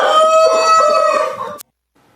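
A giant Índio rooster crows once, a loud, close, drawn-out call that ends abruptly, followed by near silence.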